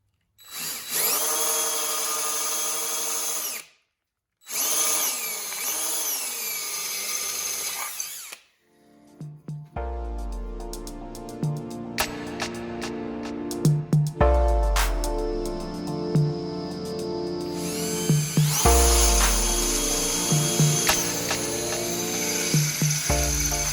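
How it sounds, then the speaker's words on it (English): Power drill boring holes during assembly of a Johnson 9.9 outboard motor for a boat, starting with a few high whining bursts and pauses, then running in long steady spells with clicks and clunks of handling between them. "Now we'll drill the holes."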